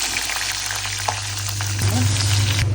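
Onion, chili and spices sizzle in hot oil in a pan, a close, continuous crackling fry with a low steady hum underneath.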